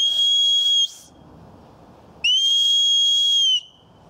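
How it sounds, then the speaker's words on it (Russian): A loud homemade whistle sounds two long, steady shrill blasts, each over a second, separated by a brief pause with faint background noise. "То есть очень громкий свисток получается, не уступающий вот такому покупному свистку."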